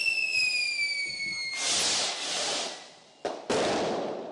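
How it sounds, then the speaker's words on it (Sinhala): Firecrackers at a political party celebration, a burst of crackling bangs following a high whistling tone, then a short gap before another crackling burst, fairly close and loud. "ප්‍රදේශ කිහිපයකම එක්සත් ජාතික පාක්ෂිකයින් රතිඤ්ඤා දල්වමින් විවිධ සැමරුම් සංවිධානය කර තිබුණා"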